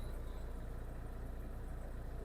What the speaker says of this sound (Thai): สตาร์ททีเดียวติดครับ